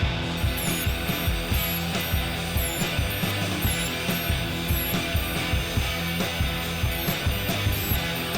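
Wood boards fed through a planer in a home workshop, giving a steady, loud machine roar with repeated rhythmic surges as each pass runs, close by and with no talk.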